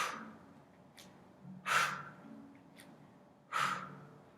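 Open-mouth exhales during yoga plank taps in a gentle vinyasa class: two strong breathy puffs, close and clear, with fainter breaths and soft movement between them.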